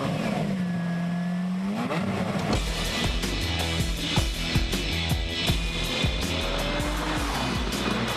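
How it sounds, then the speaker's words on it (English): A Lamborghini Murcielago engine cranks with a rising whine, then fires into a loud, close, rumbling idle with blips and throaty pulses; no one speaks. "any worries that the Lambo's got any quieter are silenced by a twist of the key"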